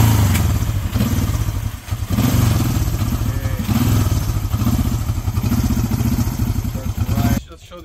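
A 1973 Honda CB350 vintage motorcycle engine starts without choke and settles into a loud, steady, close-up idle with a rapid rhythmic putter, cutting off abruptly near the end.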